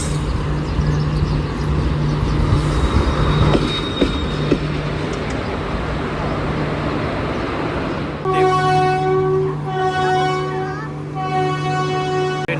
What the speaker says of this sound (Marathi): ट्रेन आली पण